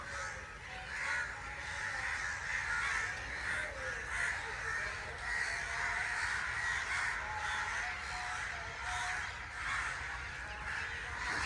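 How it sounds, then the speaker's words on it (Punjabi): A large flock of crows gathers on village trees at dusk beside the Sutlej River, producing dense, continuous cawing at a steady moderate level, with a voice faintly in the background. "ਕਾਂ ਹੀ ਕਾਂ ਆਏ"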